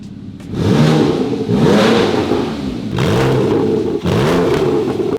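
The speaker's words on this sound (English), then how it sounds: "we've tested that the exhaust works and we know it sounds really good" A Porsche 991.1 fitted with a Rennline stainless steel valved exhaust revs repeatedly, four loud close blips rising and falling in pitch in quick succession, each swelling into a raspy roar before dropping back.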